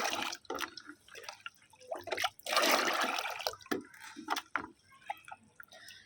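A prepared plant solution is stirred into five litres of water, giving sloshing, swirling splashes in uneven bursts, close and moderately loud with drips in between.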